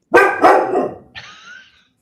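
A dog barks twice loudly and close by, then gives a short higher yip or whine before silence.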